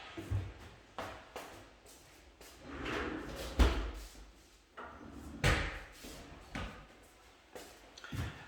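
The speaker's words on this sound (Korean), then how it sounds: "잠깐 창문을 닫고 오겠습니다" A classroom window is handled and closed in several bursts: rattling slides, clunks and a couple of sharp thuds at varying loudness, with faint shuffling between.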